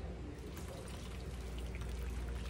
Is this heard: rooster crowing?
no